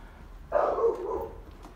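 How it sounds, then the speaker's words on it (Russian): A dog barks from behind a tall fence in a run-down hillside neighbourhood of Budva, Montenegro, one short burst of moderate loudness at middle distance, with no talk over it. "Везде страшные собаки."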